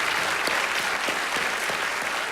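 Graduates at a 2016 commencement ceremony give their families a round of applause, a thick, continuous wash of clapping from a large crowd, loud and steady from start to finish.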